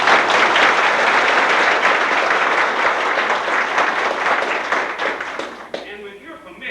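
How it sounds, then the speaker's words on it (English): A room gives Georgia House representatives a dense round of sustained clapping that tapers off near the end, where a voice begins speaking. "I would like to recognize and ask you to give a round of applause to my colleagues of the Georgia House"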